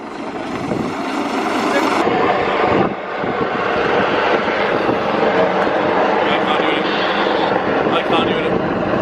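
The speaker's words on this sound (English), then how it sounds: "this helicopter wants to contact us" Helicopter hovering low overhead a sailing boat off the UK coast, a loud, steady rotor and engine roar filling the whole stretch with a brief dip partway through, while wind and water noise mix in beneath it.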